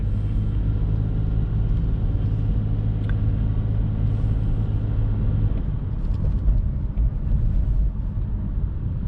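A car pulls away from a stop line on a road test area in Penrith. The engine's low rumble holds steady and then rises as it picks up speed. No one speaks.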